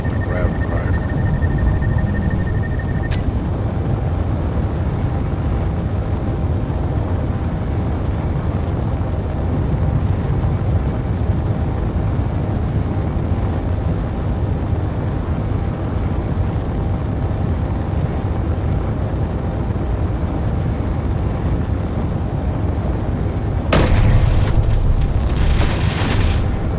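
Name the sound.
grav drive running in video game Space Engineers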